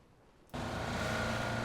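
A car engine in the video game PUBG starts up abruptly after a quiet moment and settles into a loud, steady driving drone.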